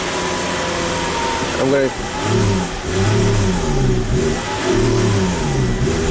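A Volvo XC90 engine cranks with a steady rhythmic starter pulse that catches into a brief, uneven run; the stalling SUV sounds close and loud, with someone talking briefly over it.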